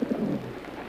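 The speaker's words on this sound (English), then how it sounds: "Yeah, and they're carrier pigeons, too." A flock of carrier pigeons coos softly at close range, a brief low murmur of a few birds.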